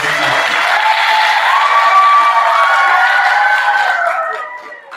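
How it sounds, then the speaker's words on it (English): Dense, sustained applause from an audience at a 5th grade school awards assembly, clapping for families, with a few whoops mixed in before it fades out near the end. "how about a round of applause for our families at home"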